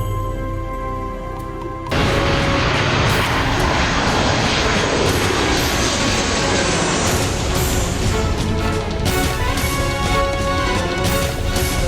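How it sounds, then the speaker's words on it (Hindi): An airplane engine roars loudly and continuously, a dense sustained drone that kicks in abruptly after a quieter opening with a low hum. "यही सही मौका है बालवीर से विमान टकराने का,"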